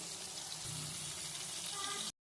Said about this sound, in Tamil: பாருங்கள், சூப்பராக ஃப்ரை ஆகிட்டு இருக்கிற ஃபிஷ்ஷை நம்ம இப்போ திருப்பி போட்டுக்கலாம்.